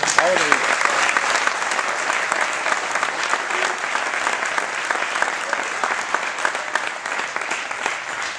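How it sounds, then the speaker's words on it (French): Sustained audience applause with dense, steady clapping, a few voices audible through the crowd for the whole stretch. "moi je voudrais qu'on l'applaudisse"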